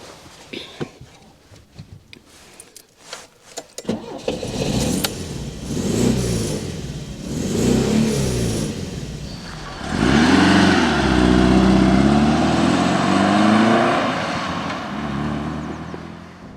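Alfa Romeo Alfasud Sprint 1.5 pulls away and drives, its engine rising through revs in loud, harmonic surges with gear changes, after a few quieter clicks and knocks at the start; a voice speaks briefly.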